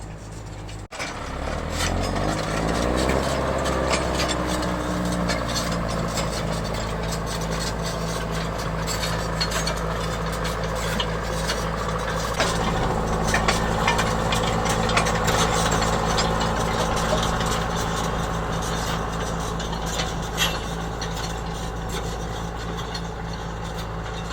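A steady, heavy tractor engine drones continuously with a grinding, rumbling load as it pulls a subsoiler through compacted ground, working hard throughout with no voices.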